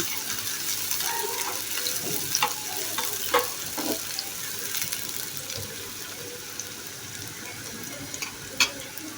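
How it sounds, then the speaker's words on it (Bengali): Chopped onion crackles and fries in oil in a pan, with intermittent scraping and clinks as it is stirred, a steady close sizzle and no talking. "এখন একটু পেঁয়াজ কুচিটাকে নেড়ে চেড়ে ভেজে নিচ্ছি"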